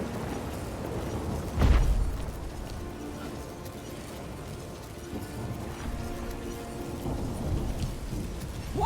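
Rain falls steadily in Witcher 3 while a sharp crack of magical lightning bursts into a deep rolling thunder boom, then settles back into the constant rainy hiss with faint distant rumbles.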